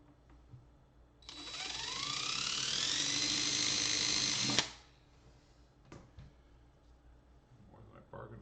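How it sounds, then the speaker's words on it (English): A power drill bores a hole into a Kremona Soloist F65C classical guitar while a HyVibe system is being installed. A loud, high whine rises in pitch for about three seconds, then stops abruptly, followed by a few quiet handling knocks. "Going to drill that hole first."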